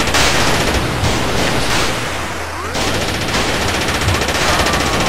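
Heavy weapon gunfire in Gang Garrison 2, a loud, sustained stream of rapid shots that dips briefly and then resumes, with a voice speaking over it.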